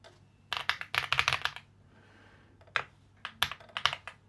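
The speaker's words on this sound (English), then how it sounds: "My typing is terrible." Quick bursts of typing on a computer keyboard while coding, close and crisp, with clustered keystrokes separated by short pauses.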